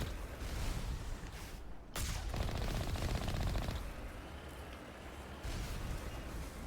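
Turrets in the Mass Effect video game firing slow rockets, heard as a dense run of rapid gunfire-like bursts and booming blasts that fill the whole clip, with a sharp crack partway through and no talking.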